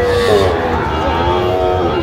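A bull calf moos at a busy cattle market, a sustained low bovine call over steady crowd murmur and nearby voices.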